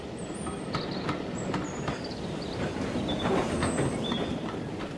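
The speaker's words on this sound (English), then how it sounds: "Peter Sam shunted the tankers onto Skarloey's train, and Skarloey set off." A train hauling heavy tanker wagons sets off with a steady rolling rumble, rhythmic wheel clatter and faint high squeals from the rails, heard up close with no voices.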